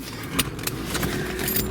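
Car keys for a Cadillac Allante jingle and clink close by for a moment, a bright metallic rattle over a steady low hum.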